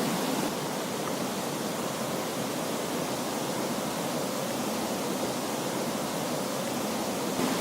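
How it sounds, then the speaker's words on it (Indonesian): A steady, broadband rush of falling water from the Proklamator waterfall in West Sumatra, Indonesia, constant and fairly close, with no voices or other sounds. "kita ketemu sama air terjun yang pertama"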